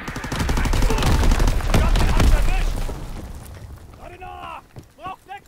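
Rapid gunfire and booming mortar blasts in the Call of Duty WWII video game, a loud dense barrage for a few seconds that fades, followed by shouted voices.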